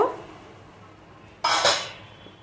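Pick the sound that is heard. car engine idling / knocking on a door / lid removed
lid removed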